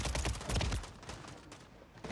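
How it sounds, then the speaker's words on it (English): Gunfire in the video game Warzone 3: a rapid burst of shots is loudest in the first second, then fades into softer rattling and echo. "Who is shooting me?"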